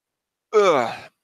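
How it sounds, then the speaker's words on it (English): A man lets out a big yawn mid-sentence, a single drawn-out voiced exhale of about half a second, close and fairly loud, with no other sound around it. "Had a big yawn there."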